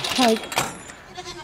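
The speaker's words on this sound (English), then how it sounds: "The baby goat is screaming for me." A baby goat bleats loudly at a farm, a couple of sharp cries close by, with a woman's brief speech over it.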